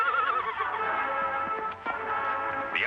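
Horse neighing during a fight with a buffalo, a long shrill, wavering whinny with sharp squeals and snorts, loud and close, in a 1949 Western film soundtrack.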